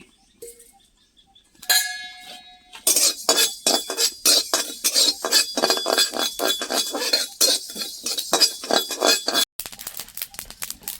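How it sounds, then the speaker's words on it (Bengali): Fennel seeds and panch phoron being dry-roasted in an empty kadai, heard as a steady run of close, bright clinks and scrapes of a utensil against the metal pan, continuing rhythmically without speech. "এবার আমি ভেজে নেব সম্প আর পাঁচফোড়ন। শুকনো খোলায় ভেজে নিচ্ছি।"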